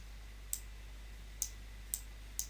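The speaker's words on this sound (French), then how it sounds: "je clique" Four sharp, quiet computer mouse clicks at uneven intervals over a constant low electrical hum, with nothing else in between.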